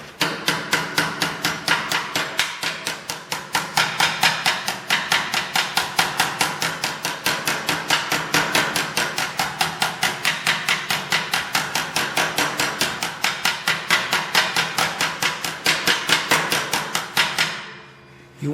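A hammer taps steadily on sheet metal clamped in a metal brake during body work on a 1959 GMC Fleetside pickup. Rapid, even metallic strikes follow one another, loud and close, for about seventeen seconds, then stop abruptly.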